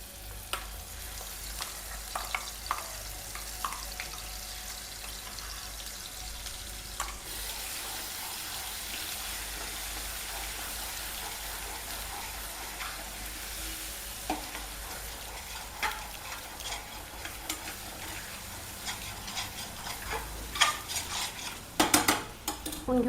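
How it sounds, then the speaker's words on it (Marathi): Spice masala goes into hot oil for a Bombil batata dish and sizzles softly, with faint clinks and scrapes from stirring and a few louder clatters near the end, with no talking. "तेलामध्ये आता मसाला टाकून घेऊ।"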